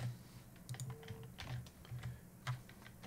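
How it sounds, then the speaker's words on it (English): Password being typed on a computer keyboard: a quiet run of irregular key clicks in short bursts with small pauses, close by and with no voices. "I'm going to type in whatever I want for password."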